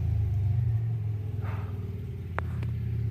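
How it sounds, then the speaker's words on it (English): Passing road traffic with trucks rumbling by, a steady low engine drone that swells and fades as vehicles go past, with a brief sharper noise near the end. "People in their stupid trucks."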